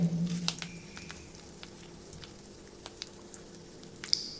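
Ingredients for tomato poha fry in a pan with a steady soft sizzle, dotted by small irregular pops and crackles, close and moderately quiet with no talking.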